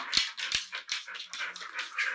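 A young Labrador puppy makes a run of short, breathy whimpering and snuffling sounds, close and fairly faint, in quick irregular bursts with soft taps between them.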